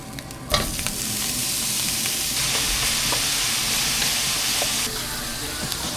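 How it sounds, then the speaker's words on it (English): Mincemeat, onion and bay leaves sizzle steadily in a pan, a continuous close frying hiss with occasional stirring clicks and scrapes throughout. "we got the mincemeat and onion and bay leaves all cooking in here"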